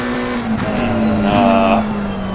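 A McLaren GT race car engine in Assetto Corsa Competizione at Valencia, a steady loud droning whine holding pitch with a brief rise, heard alone without talk.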